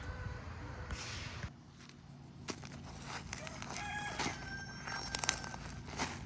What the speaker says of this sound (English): That was perfect timing for him to crow.